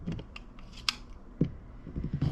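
Scissors or a rotary cutter slicing quilt fabric along a ruler for a border strip, heard as a few short close snips and scrapes, with faint rustling and no talk.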